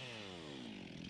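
A chainsaw cuts through a large spruce in Voorburg, its engine note falling steadily as the bar bites in, loud, close and continuous over about a second, with no talking.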